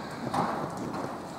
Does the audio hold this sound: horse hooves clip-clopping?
yes